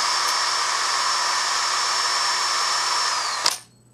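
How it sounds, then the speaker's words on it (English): A handheld electric drill fitted with a 1/4-inch bit whines at a steady high pitch for several seconds, then cuts off abruptly with a short clack. "you actually have to have a 1/4-inch drill bit"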